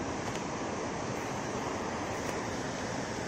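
The Bharachukki waterfall keeps up a continuous roar of rushing water, a loud, dense wash that holds steady throughout with no break and no talking.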